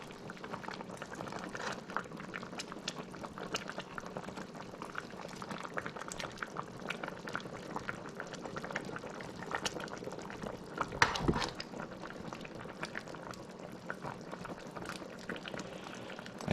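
Steady low bubbling and simmering of catfish curry with okra and green mango in a pot on the stove, a continuous soft gurgle with a brief louder surge near the end.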